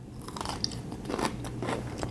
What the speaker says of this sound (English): I was just eating some pickles